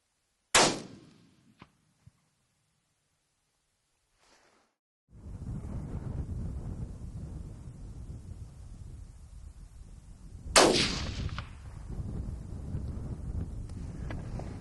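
Two sharp, loud hunting rifle shots fired outdoors, several seconds apart, each cracking and then echoing away. Wind noise rumbles into the microphone between them.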